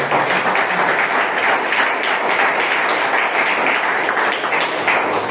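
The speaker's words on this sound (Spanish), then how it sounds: "Dale palmas." A church congregation applauds during a sermon, a dense, steady wash of many hands clapping together throughout, loud and sustained without talk.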